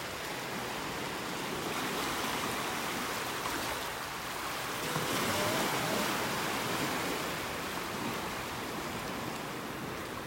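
Ocean waves wash onto a beach in North Naples, Florida, on an early morning, a continuous broadband surf roar that swells slightly midway, with no talking.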